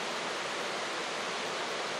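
New England waterfall in a forested setting, a constant dense roar of falling water heard up close with no voices.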